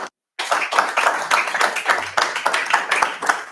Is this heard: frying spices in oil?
no